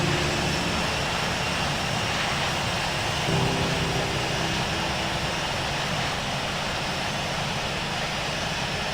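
A Boeing 737 in the Infinite Flight simulator game roars through its takeoff run, a loud, steady broadband jet engine rush that fills the whole clip with little change.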